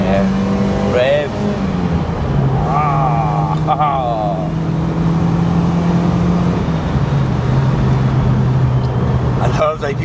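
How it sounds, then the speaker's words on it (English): Mk1 Golf Cabriolet small-displacement engine revving, a strong steady drone rising and falling in pitch with gear changes, heard from inside the car under occasional voices. "Oh yeah, rev."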